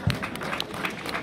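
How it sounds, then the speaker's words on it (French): Brief burst of audience clapping for a team's players at an end-of-season gathering, a steady patter of many hands at moderate volume. "on peut les applaudir"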